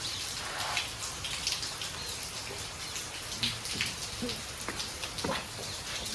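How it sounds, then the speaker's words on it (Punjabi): Steady rain falls, with scattered drops pattering on surfaces and faint bird calls in the distance. "ਬੜਾ ਮੀਂਹ ਪੈ ਗਿਆ"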